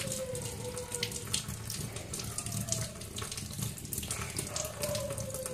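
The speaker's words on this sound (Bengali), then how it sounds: "এই হাতটা একটু ধুয়ে নিয়ে তারপরে হাতাতে হাত দেবো" A basin tap runs steadily while hands are washed under it, giving a continuous close splashing gush of water with slight variations as the hands move through the stream.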